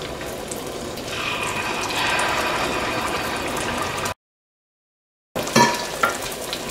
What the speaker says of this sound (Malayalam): ഓയിൽ നന്നായിട്ട് ചൂടായിട്ടുണ്ട്. ഇനി ഇതിലേക്ക് ഓരോ സ്പൂൺ മാവ് ഒഴിക്കുക.